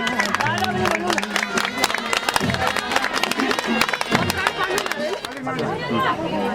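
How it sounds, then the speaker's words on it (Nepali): Applause at a 50th wedding anniversary celebration, with steady clapping from a gathered crowd that keeps going under loud chatter and cheering. "फेरि ताली चाहिने भयो"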